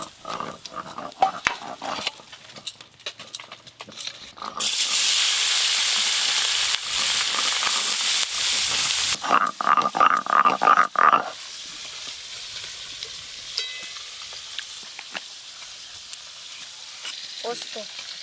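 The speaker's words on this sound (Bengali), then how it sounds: "এই মাছগুলো ভালো করে ভাজা হয়ে গেছে।" Small fish frying in hot oil, giving a loud, dense sizzle that surges for several seconds, then crackles in bursts before settling to a quieter background with a few faint voices.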